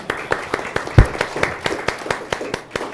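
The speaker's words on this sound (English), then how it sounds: "Let's give her a round of applause today." A small audience at a city mayor's listening session in Sioux Falls claps, with sparse, distinct handclaps in a loose rhythm that sound close and moderately loud, and a voice murmurs faintly underneath.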